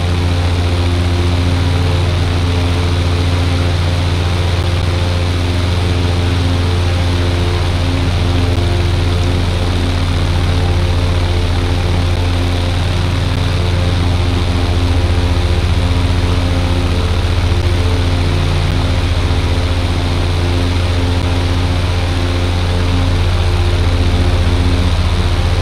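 A Scottish Aviation Bulldog propeller trainer flies near KLCC, its engine a loud, steady drone with a strong low hum that holds evenly throughout, no voices heard.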